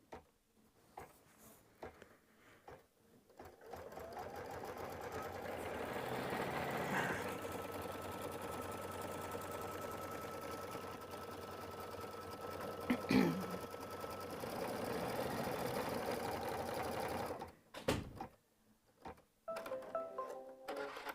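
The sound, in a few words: embroidery machine stitching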